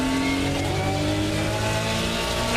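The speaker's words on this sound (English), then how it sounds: "Heavy on the braking now." A GT3 race car braking hard at Misano World Circuit: a loud, steady engine drone with layered tonal harmonics holding nearly level, then a brief sharper rise at the very end.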